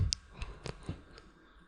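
A mouse clicking a stop-recording button on a computer, a few quiet, sharp clicks spaced irregularly over a second and a half, alone and close.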